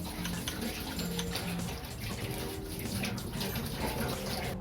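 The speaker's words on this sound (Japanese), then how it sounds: "まずね、水で洗って汚れを引き落とします。" Pruning shears rinsed under running water, a steady close splashing wash with faint clinks of the metal blades, no talking.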